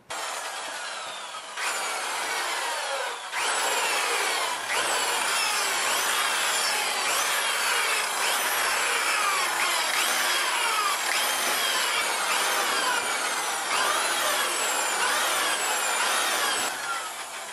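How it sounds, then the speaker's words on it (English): Abrasive sanding on a surfboard coated in Solarez UV cure resin, a continuous loud scratchy rasp with repeated back-and-forth strokes, close and steady throughout, with no talking. "Now that the board's been dry sanded and the rails are scraped"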